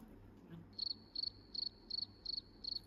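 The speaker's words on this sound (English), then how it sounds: "Crickets." Crickets chirp in six evenly spaced, high trilling pulses over a quiet background, faint and steady without any voices.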